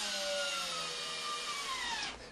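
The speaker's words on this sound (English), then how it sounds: "Using a cordless screwdriver, drive the screws straight through the drywall patch and into the wooden wall studs." A cordless screwdriver whirs steadily as it drives screws through a drywall patch into wooden wall studs, a close, continuous motor whine that winds down at the end.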